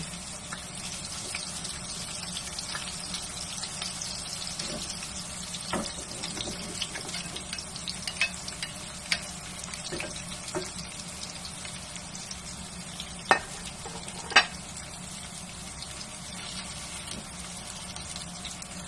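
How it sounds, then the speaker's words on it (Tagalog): Potato and sweet potato pieces frying in oil, a continuous close hiss and crackle with occasional sharper pops, steady and moderately quiet, with no voices. "Unahin muna natin ipiprito yung patatas at saka fried muna natin yung patatas at saka yung kamote."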